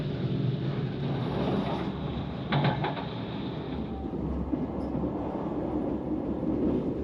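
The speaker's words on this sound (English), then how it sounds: "the train finally speeds up" A steady, broadband rumble of Portugal's Alfa Pendular tilting passenger train moving fast, with a brief rattling clatter partway through; no voices.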